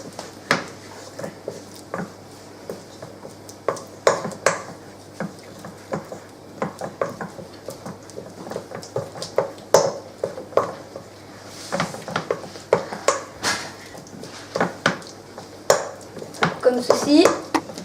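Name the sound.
kneading butter in a bowl with a wooden spoon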